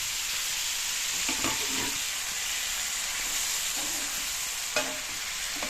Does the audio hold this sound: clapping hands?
no